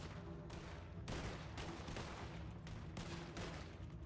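Sustained rapid gunfire in a Red Dead Redemption roleplay shootout, dense overlapping bursts of shots rolling continuously at steady loudness with no talking.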